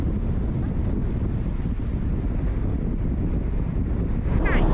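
Strong coastal wind buffets the microphone in a steady, loud roar with a faint wash of waves beneath, rising slightly at the end, on rocky shore at a Baltic seaside resort in Świnoujście near the German border.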